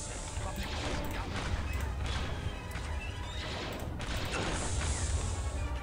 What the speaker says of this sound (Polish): Całą serię wywaliłem w niego